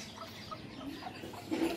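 Faint clucking from a pet hen and her five- or six-day-old chicks in a wire-netted coop, soft scattered calls with a slightly louder burst near the end over a steady background hiss.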